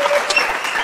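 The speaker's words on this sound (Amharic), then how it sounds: "አጨብጭቡላት።" A talk show studio audience breaks into a short burst of clapping, close and fairly loud, lasting under a second.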